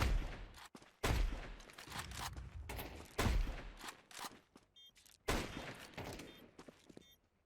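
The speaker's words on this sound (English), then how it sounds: "I tried to triple burst him with the Glock" Glock pistol fire in the Counter-Strike 2 video game, loud close bursts of rapid shots separated by short gaps, with footsteps and other game sounds between the volleys.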